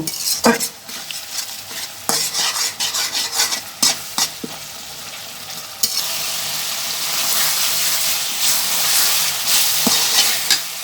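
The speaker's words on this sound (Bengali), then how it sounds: "এখন ভালো করে মশলাটা কষিয়ে নেব" Ginger-garlic paste, cumin, turmeric, coriander and chili masala frying for chicken jhal fry, stirred hard with a metal spoon, giving loud scraping clanks over a steady sizzle that swells later.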